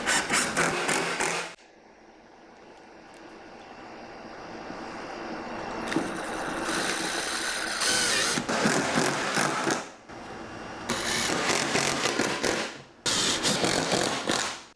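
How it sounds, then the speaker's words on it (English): A power driver sends drywall screws through drywall into a wall stud while a hole is patched, giving several loud whirring bursts of a few seconds each with short pauses between, close by and with no talking. "Go ahead and take some more drywall screws, throw in the stud over here."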